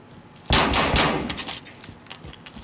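Gunfire in a shooter video game: a sudden loud burst of rapid shots followed by a scatter of fainter, decaying cracks and metallic pings, close and without talk.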